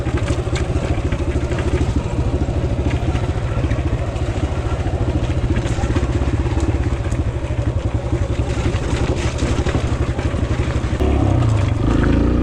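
A 2022 Kawasaki KLX140RF dirt bike rides a single-track trail, its small engine droning loud and steady with rapid revving and chain clatter throughout.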